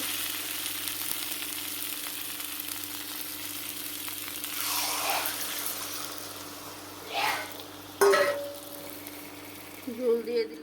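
Potatoes fry with spices in a pan, giving a steady, quiet sizzle throughout, with a few soft stirring scrapes near the end.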